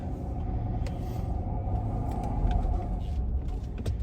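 A supercharged Range Rover rumbles low and rough, its engine labouring unevenly under load with a few sharp knocks above the drone, heard from inside the vehicle.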